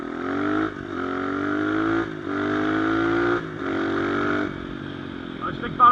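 A 250cc Hurricane V2 Nitro Motors dirt bike engine drones and revs in repeated surges, dropping briefly between gear shifts, loud and close, with a short clatter at the end.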